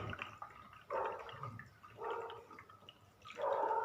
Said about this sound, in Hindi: चलिए अब हम थोड़ा और पानी भरते हैं।